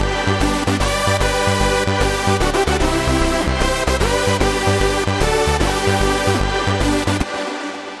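Happy Birthday remix produced in FL Studio, its harmony line cloned and dropped an octave lower, playing as a steady beat-driven loop of repeating bass pulses and layered synth chords, loud and continuous before cutting off near the end.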